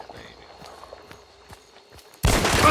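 A single loud, close shotgun blast from the Hunt: Showdown video game hits suddenly after a quiet stretch of faint ambient ticks and clicks, and its broad roar carries to the end.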